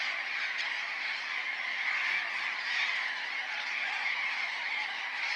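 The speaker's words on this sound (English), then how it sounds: "Even colorful, noisy flocks of burrowing parrots can find a place to call home" A noisy flock of burrowing parrots calls continuously in an arid semi-desert neighborhood, a dense steady chatter of overlapping harsh squawks with no pauses, fairly loud and close.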